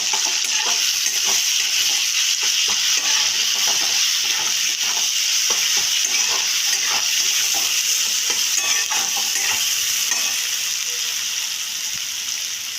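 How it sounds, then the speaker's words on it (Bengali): Banana flower and shrimp are fried and stirred in a pan with spices, giving a loud, constant sizzle broken by repeated scraping and clinking of the spatula throughout. "এবার এটাকে আমি একটু কষিয়ে নিচ্ছি"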